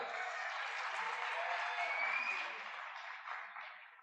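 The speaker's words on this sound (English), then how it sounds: "A huge round of applause for Saksham and Divya." Audience at the IIT Bombay Institute Valedictory Function 2023 applauds after a performance, a steady wash of clapping that sounds distant and soft, with no voices over it and a gradual fade near the end.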